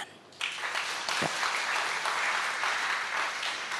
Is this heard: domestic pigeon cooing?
no